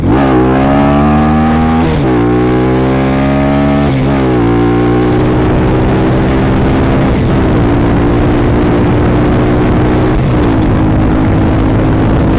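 A Geo-Minsk motorcycle engine accelerates in sixth gear, a loud, close, continuous drone rising in pitch, dipping at a couple of shifts in throttle, then holding steady with wind noise.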